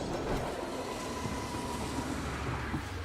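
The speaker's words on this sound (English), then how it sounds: "So did our train crash or not?" A train in the Genshin Impact video game rumbles and roars continuously, a dense low mechanical din with a faint thin tone riding above it, steady and fairly close.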